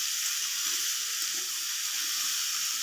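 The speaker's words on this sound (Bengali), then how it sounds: "এবারে আমি দুটো ছোটো ছোটো পেঁয়াজ নিয়েছিলাম, সেটা কেটে এর মধ্যে দিয়ে ভালোভাবে ভেজে নেব।" Potatoes and onions fry in a pan with a steady, even sizzle and hiss that stays constant throughout, with no talking.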